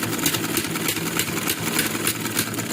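A sewing machine runs steadily while stitching fabric for a simple baby frock, giving a continuous close mechanical whirr with a rapid even pulsing rhythm and no voices.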